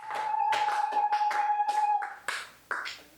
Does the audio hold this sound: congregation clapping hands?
yes